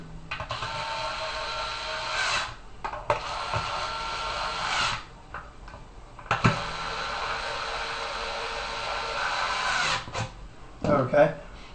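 Long screws are driven into a Halo B device with a powered driver, in several sustained whirring bursts separated by short pauses and ending in a few clicks.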